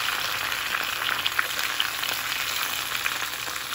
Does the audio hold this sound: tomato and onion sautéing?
yes